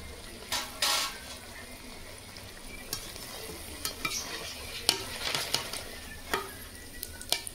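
Banana fritters (kolar beguni) fry crisply in hot oil with a steady, close sizzle, broken by a few sharp clinks and scrapes of stirring. No one speaks.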